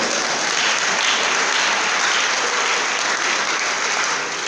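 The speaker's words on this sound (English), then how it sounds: "Give him a round of applause." Sustained audience applause at an opening-speech ceremony, a continuous even wash of clapping from many hands with no voices over it.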